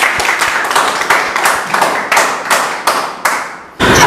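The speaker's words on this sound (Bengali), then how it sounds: "তো তার জন্য একটা করতালি হবে সবাই।" A classroom of students in an offline freelancing course claps together in loud, rhythmic bursts about three per second, the beat staying even until a final heavier burst at the end.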